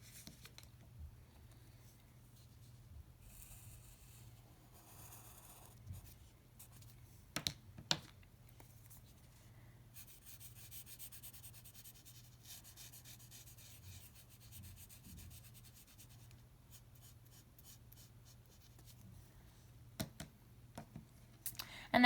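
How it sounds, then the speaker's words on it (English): Quiet scratchy rubbing of a pencil sketching on paper, coming in soft intermittent strokes with a few light taps over a faint low hum. "I am going to draw a sketch on my paper here"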